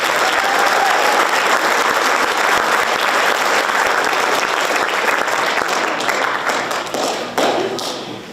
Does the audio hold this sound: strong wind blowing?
no